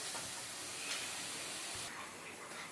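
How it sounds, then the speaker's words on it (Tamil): Okra sautéing in a kadai gives a steady, close sizzling hiss with a soft spattering texture and no voices. "இப்போ கடாயில் நம்ம இந்த வெண்டைக்காவை போட்டு நல்லா வதக்கிக்கலாம்"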